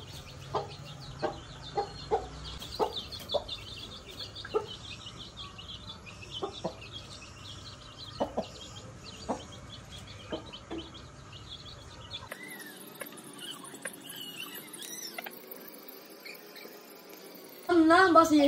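A hen and newly hatched chicks cluck and peep close by in short, scattered calls over a low background, ending in a brief louder burst of noise.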